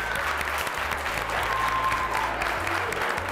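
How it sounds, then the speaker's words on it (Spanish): A classroom of children applauding together, dense steady clapping that fills the whole stretch at even loudness, with faint voices mixed in. "Primero les quiero dar un aplauso que se comprometen todos."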